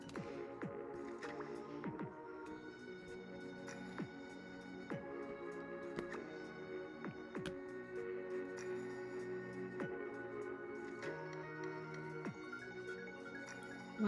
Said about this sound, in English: Why does it sound like gurgling water?